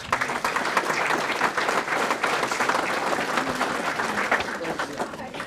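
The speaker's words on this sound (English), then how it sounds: "So applause for all those folks." Audience applause at an award dinner, a dense crowd of hands clapping steadily at close range, with murmured voices mixed in beneath the clapping.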